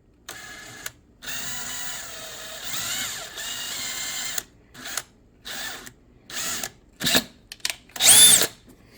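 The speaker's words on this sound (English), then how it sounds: "let's get that hole drilled." A power drill whirs in several bursts, first long steady runs, then short starts and stops, ending with a louder high-pitched spin.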